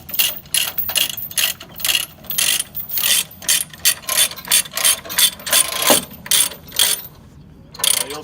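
A ratchet load binder being cranked tight on a chain during skid steer securing, giving rapid repeated metallic clicks in bursts, loud and close, with short pauses between strokes.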